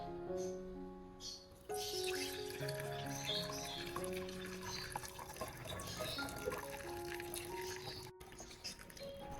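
Nutrient-rich orchid solution is poured through a filter into a clean container, a faint steady trickle with light drips, close and quiet.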